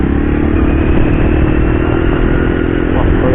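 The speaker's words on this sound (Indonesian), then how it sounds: "Naik motor butut." An old, worn-out motorcycle is ridden, its engine rattling loud and close in a constant clattering drone throughout, with no voices.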